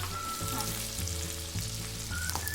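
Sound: edible gum (dink) frying for ladoo

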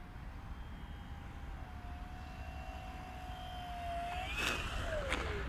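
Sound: HobbyKing balsa Tiger Moth RC model plane landing

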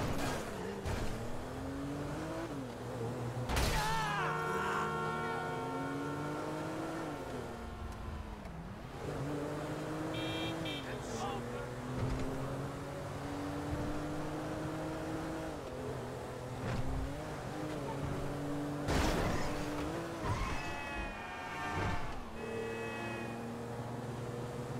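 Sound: car driving in video game GTA 5

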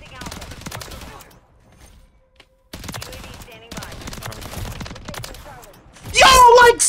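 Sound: gunfire in the video game Call of Duty

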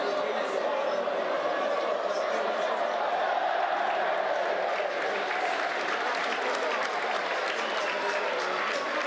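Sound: supporters applauding Nocerina players at football match

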